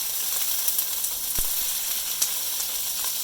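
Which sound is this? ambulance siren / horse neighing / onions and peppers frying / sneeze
onions and peppers frying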